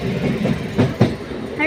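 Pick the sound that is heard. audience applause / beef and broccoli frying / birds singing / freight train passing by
freight train passing by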